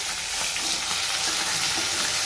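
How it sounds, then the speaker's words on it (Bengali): Fish pieces frying in a pan make a dense, continuous close-up sizzle that holds steady throughout, with no voices. "এখানে মাছগুলো ভাজা হচ্ছে"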